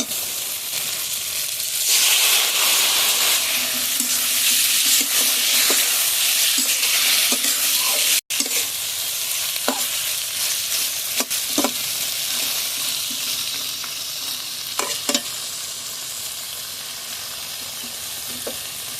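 Chicken skin dropped into a pan of cooked-down tomato and fried, a loud continuous sizzle with repeated scraping clinks of a spoon stirring, one sharp knock midway, no voices.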